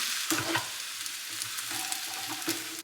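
Chickpeas, peppers and vegetables sizzle and fry in a pan with vegetable broth, a steady close crackle broken by a few stirring scrapes, with no talking.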